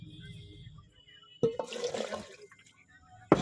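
Chicken skin rinsed under a running kitchen tap, with a quiet start, then a sudden gush and splash of water against the pieces and sink, ending in another sharp splash.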